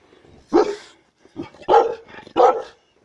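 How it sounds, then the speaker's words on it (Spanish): Dogs barking in the countryside of Cajamarca, Peru, three sharp close bursts of barking spaced about a second apart, loud and clear with quiet gaps between. "¿A quién le ladran,"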